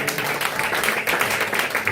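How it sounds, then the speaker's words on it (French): A church congregation claps in a steady, dense wave of applause, fairly close and continuous for a couple of seconds, with some voices mixed in. "Acclame très fort Jésus"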